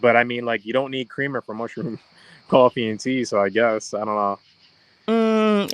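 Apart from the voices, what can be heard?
No everyday noises stand out.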